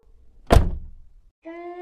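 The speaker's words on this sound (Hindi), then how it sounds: "जैसे ही दोनों आगे बढ़े, एक खिड़की खुद बंद हो गई।" In a horror cartoon, a window slams shut by itself with a single sharp wooden thunk that quickly fades. A short sustained tonal sting follows a moment later.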